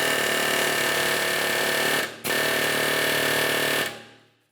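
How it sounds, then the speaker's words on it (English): An air chisel with a half-inch drive hammering a ball joint mounting bolt loose on a 1994-2002 Dodge Ram 2500, a loud, continuous rapid rattle that breaks off briefly, resumes, then winds down to silence. "Continue on with an air chisel with a 1/2-inch drive on the end"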